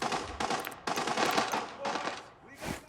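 Gunfire in the video game Arena Breakout: loud bursts of rapid automatic shots in several clusters, with short gaps between them and a final burst near the end.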